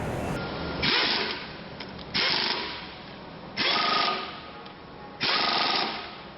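Impact wrench running bolts down on an assembly line, four loud rattling hammering bursts of about a second each with short pauses between, close and alone.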